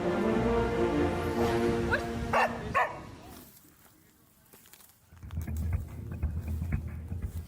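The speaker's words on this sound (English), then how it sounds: "a highly trained sniffer dog and used to detect explosives in the overhead luggage" A highly trained explosives-sniffer dog barks and whimpers in short yips over the first few seconds, then quieter rustling, with a louder stretch of activity returning near the end; no speech.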